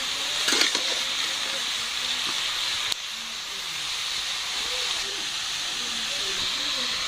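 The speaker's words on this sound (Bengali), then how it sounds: "এখন হচ্ছে ফুলকপি আলুতে মাছ রান্না করতেছি। ফুলকপিগুলা বসাইছি" Cauliflower and potato frying in a pan for a fish curry, giving a steady close hiss and sizzle with faint stirring clinks, plus a brief knock near the three-second mark.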